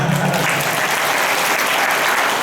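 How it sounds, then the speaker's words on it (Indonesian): Steady audience applause fills the room at a seminar or lecture event, dense and continuous clapping throughout with no talk over it. "Tepuk tangan buat kita."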